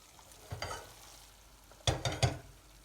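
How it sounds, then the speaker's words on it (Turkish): Sauce poured over a zucchini dish in a pot sends up short, quiet bursts of sizzling and stirring, one brief splash followed a second later by a quick cluster of three. "sosumuz hazır. Şimdi yemeğimizin üzerine ilave edeceğim."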